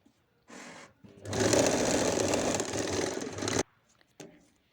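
A sewing machine stitches a folded strip of fabric for a blouse's back-opening hook band, running in a steady, loud burst of about two and a half seconds, with a few brief lighter whirs of the machine before and after.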